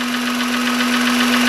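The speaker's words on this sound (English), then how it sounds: "It's a fairly noisy engine. For, you know, how little it is." Small engine of a 2000 Honda Insight barn find running with the hood up, a close steady idle with a constant hum and busy ticking from the injectors, no voices.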